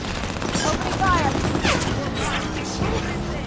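Rapid gunfire in Halo 5: Guardians, a steady dense rattle of shots from a fight running the whole time, loud and continuous, with voices talking over it.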